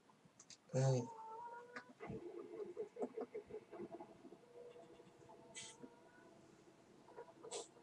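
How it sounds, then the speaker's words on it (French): Chickens on a farm in Farming Simulator 17 cluck faintly in a loose, busy chatter, with one louder squawk near the start over quiet background noise. "Taisez-vous les poules."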